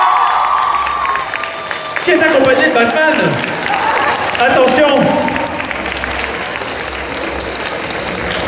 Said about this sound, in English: des tonnerres d'applaudissements, s'il vous plaît